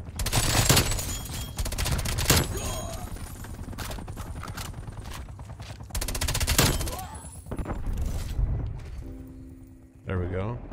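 Gunfire in the Black Ops Cold War video game crackles in rapid automatic bursts and single shots, loud and busy, with a player talking over some of it.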